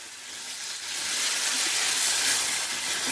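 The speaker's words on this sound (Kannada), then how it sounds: "ಕಂದು ಬಣ್ಣ ಬರೋವರೆಗೂ ಸ್ವಲ್ಪ ಹುರ್ಕೋಬೇಕು" Ground coconut and mango gravy for Malnad-style mango sasime fries in a pan, giving a steady, bright sizzling hiss that grows slightly louder and then holds, with no talking.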